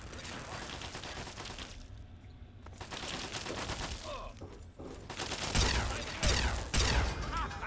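An automated turret in the video game Fallout 3 fires sustained, dense bursts of rattling gunfire. The shooting is loud and near, growing heavier and more intense toward the end.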